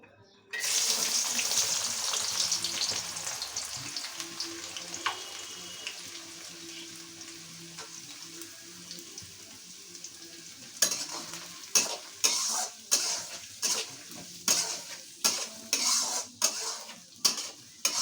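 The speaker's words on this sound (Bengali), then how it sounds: "এবার ওই তেলেই পেঁয়াজ রসুনটাকে দিয়ে দেব" Onion and garlic hit hot oil in a pan for a meat dish, a loud sizzling burst that settles into a steady fry, then repeated rhythmic stirring scrapes toward the end.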